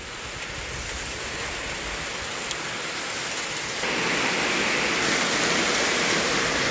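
Steady heavy rush of rain falling during a rice harvest, dense and broadband, growing louder partway through and continuing without pause.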